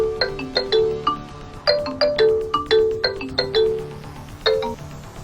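A phone rings with an incoming call in a TV drama scene: a repeating melodic ringtone with bright, bell-like chimes in bursts, fairly close and clear, with no one speaking over it.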